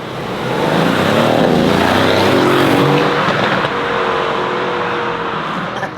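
A twin-turbo supercar of about 2,000 horsepower revs hard, its engine a loud, sustained, close roar that holds nearly steady for several seconds with a slight dip midway, no voices.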